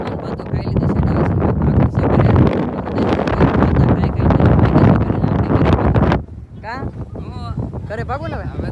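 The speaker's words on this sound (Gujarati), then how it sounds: "ગજબ પવન આપણે ઉડી જાય એટલો પવન છે" Strong wind buffets the microphone outdoors at a picnic meal, heavy rumbling gusts that drop away near the end as people talk.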